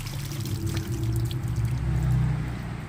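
A 50-50 solution of muriatic acid and water pours steadily out of a container, a continuous close splashing and gurgling stream lasting a few seconds with no talking.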